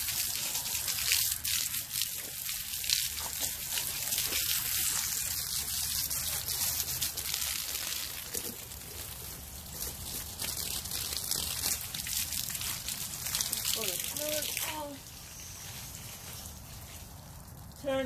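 Water from a hose sprays and splashes steadily across a bleach-scrubbed console table being washed down outdoors, a continuous close gush that eases off toward the end.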